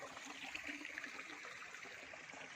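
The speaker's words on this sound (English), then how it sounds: "Creek flows down here." A creek flows along a hiking track on the Australian Alps Walking Track, a faint, steady rushing and trickling of water heard alone without pauses.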